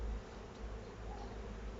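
Honey bees hum steadily at a hive during feeding with sugar syrup, a faint continuous drone with no voices.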